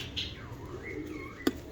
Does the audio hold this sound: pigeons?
yes